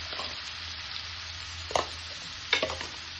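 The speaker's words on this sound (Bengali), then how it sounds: "এবার পেঁয়াজটা আমি অল্প লাল লাল করে ভেজে নেব" Onions with a pinch of salt fry steadily in a pan, a continuous soft sizzle with a few sharp scraping stirs of a spatula, close and without talk.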